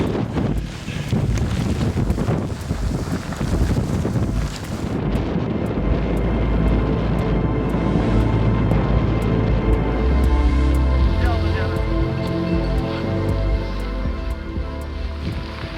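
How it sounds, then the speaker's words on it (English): Strong, steady wind on K2 with spin drift roars and buffets loudly throughout, a dense continuous rush with low rumbling gusts and no voices. "Very, very windy, a lot of spin drift."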